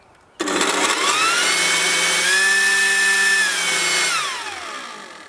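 Ryobi RY40430 40V battery jet fan blower starting abruptly and spinning up to a loud, steady high-pitched whine, rising further in the middle as speed increases, then winding down near the end, close by and alone.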